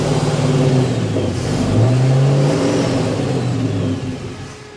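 A car engine fitted with tall rocker covers revs up, falls back and revs again, a loud, deep, throaty growl heard close up with no voices over it.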